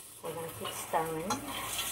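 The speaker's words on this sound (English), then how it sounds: "keep stirring so you won't get stuck in the pan on the pot" Shell soup is stirred in a pot, with soft scraping and a faint, squeaky tonal rubbing of the utensil against the pot, quiet and close.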